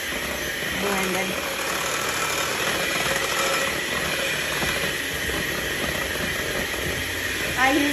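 A small Black & Decker hand mixer with Teflon-coated beaters blends butter and oil for shamrock cookies, giving a steady, even motor whir that runs unbroken throughout.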